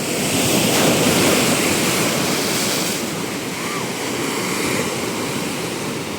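Heavy ocean surf crashes onto the shore in a strong, continuous roar, loud and close, with gusting wind blowing across the microphone.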